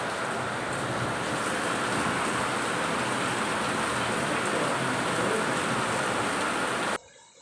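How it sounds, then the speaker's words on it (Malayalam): Heavy rain pours down in a steady, dense roar that stays loud and even throughout, then stops abruptly just before the end. "നല്ല മഴയാണ് കേട്ടോ"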